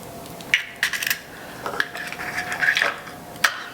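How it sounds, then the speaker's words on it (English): Four eggs are set into a bowl for an Easter dessert, making several sharp hard taps and clinks at irregular spacing, close and fairly clear in a quiet kitchen. "We're gonna take 4 eggs. We're gonna put them in our bowl."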